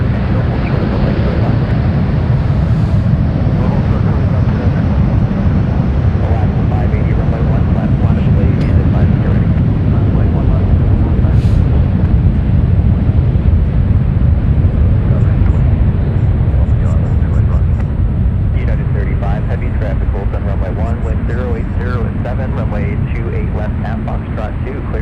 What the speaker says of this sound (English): the 757 cleared for takeoff. Let's be quiet for this one, everyone. RB211's powering up.